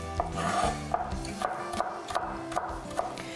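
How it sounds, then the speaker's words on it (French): A knife chops onions on a cutting board for a Tuscan creamy chicken recipe, light repeated taps at a fairly even rhythm, close and fairly quiet. "je vais continuer à hacher mes oignons"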